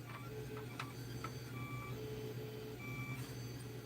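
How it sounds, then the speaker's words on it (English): A 3D printer runs with a steady low motor hum under intermittent high stepper-motor whines and short tonal beeps, moderately quiet and close, with no voices. "Oh, the noise? It's the 3D printer."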